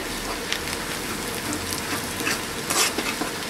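Onions frying toward brown for a koi fish tamarind bhuna hiss loudly and steadily, with frequent light clinks and scrapes of stirring against the pan.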